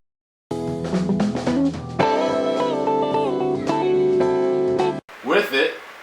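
A mix of guitars and keyboards plays without EQ, a steady sustained chord bed with plucked notes on top that cuts off abruptly, followed by a brief spoken voice.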